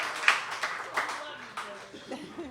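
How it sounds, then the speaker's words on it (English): Audience at a Juneteenth concert clapping in scattered, uneven bursts of moderate loudness while a person speaks over it. "And don't stop clapping."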